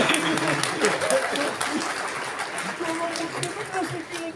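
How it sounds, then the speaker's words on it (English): An audience applauds the presenters at a leadership event, the clapping moderately loud and fading slightly, mixed with crowd chatter and voices. "Let's give a big round of applause to all the presenters"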